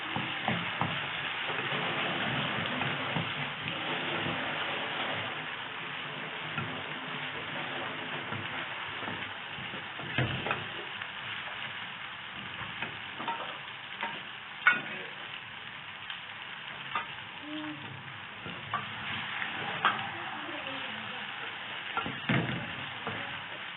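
Onions, green chillies, ginger, garlic and tomato fry in hot oil in a pan for a saag tadka, giving a steady close sizzle with occasional stirring clatter and pops throughout.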